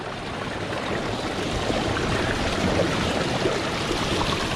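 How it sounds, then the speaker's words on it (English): A stream flows beside a trap set near the water's edge, making a steady, loud rushing gurgle that stays even from start to finish with no voices over it. "with the water flowing here"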